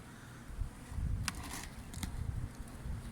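Honeybees buzz around a hive during early-spring solid feeding, a faint, soft hum against a light rustling background, with a few brief crackles standing out.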